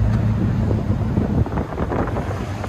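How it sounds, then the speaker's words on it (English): Steady, heavy wind buffeting an outdoor microphone beside a 2020 Dodge Durango SRT 392 with true dual straight pipes, a loud low rumble that persists through the whole stretch with no voices. "And the wind has picked up again."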